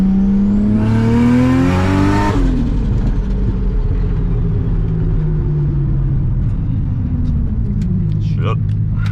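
Car pulling hard toward a meet, engine revs climbing steeply for about two seconds before a shift, then a lower steady drone continues close by, with brief talk near the end.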